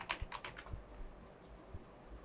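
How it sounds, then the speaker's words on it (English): Quiet typing on a computer keyboard during Photoshop logo design work, a quick cluster of clicks at the start followed by a few sparse, faint keystrokes. "I'm hitting T on my keyboard and then typing out creative tutorials"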